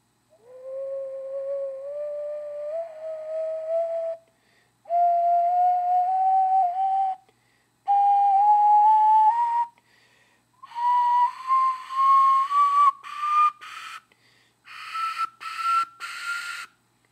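A breathy ocarina plays a slow rising melody of sustained notes in several separate phrases, growing slightly airier and higher toward the end.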